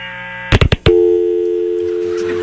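A loud telephone line tone follows a disconnected call on a radio show: a few sharp clicks and bursts, then a steady continuous electronic tone holding to the end.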